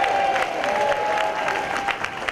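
A seated audience at a Senior First Night 2019 celebration breaks into steady, sustained applause, a dense wash of clapping hands that holds for a couple of seconds without pause.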